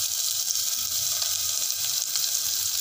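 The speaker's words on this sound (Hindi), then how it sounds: "प्याज को हमें ब्राउन होने तक भूनना है।" Chopped onion fries in hot oil for dal, a dense, steady sizzling hiss that stays loud and close throughout with no voices.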